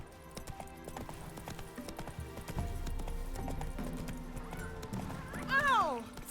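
Roach the horse's hooves clip-clop steadily in The Witcher 3 video game, close and clear, with a brief whinny near the end and a voice speaking over the hoofbeats.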